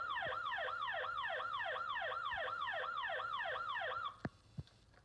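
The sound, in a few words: toy Hess emergency truck siren, third tone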